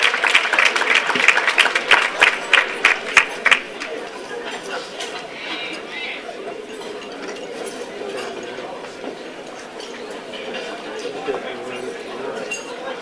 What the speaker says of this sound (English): give him a nice hand of applause as he walks to the stage